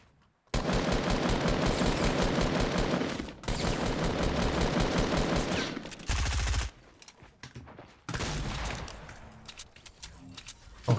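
Fortnite gunfire, rapid automatic bursts fired nonstop in long loud volleys with brief gaps between, close and dense, ending in a few scattered shots and clatter.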